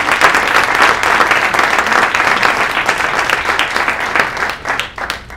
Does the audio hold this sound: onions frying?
no